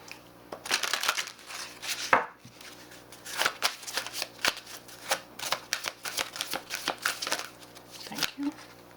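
A deck of Goddess Dream Oracle cards is shuffled nearby in repeated riffling, slapping bursts that continue throughout.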